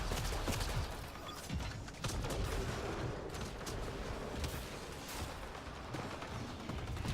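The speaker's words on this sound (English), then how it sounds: "He's fire prime, so I'm going to detonate the fire combo." A fire combo detonates in Mass Effect: Andromeda multiplayer amid dense, continuous game combat, with bursts of blasts and gunfire layered in a loud, busy mix throughout.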